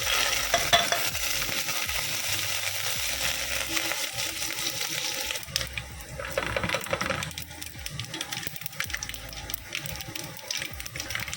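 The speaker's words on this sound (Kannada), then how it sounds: "ಒಗ್ಗರಣೆ ಹಾಕ್ಕೊಂಡು ಸಾಸಿವೆ, ಒಂಚೂರು ಜೀರಿಗೆ, ಕಡಲೆಬೇಳೆ, ಕರಿಬೇವಿನ ಸೊಪ್ಪು, ಒಣಮೆಣಸಿನ್ಕಾಯಿ" Mustard seeds, cumin, chana dal, curry leaves and dry chillies frying in oil for a tempering, a busy crackling sizzle with scraping stirring throughout, loud and close.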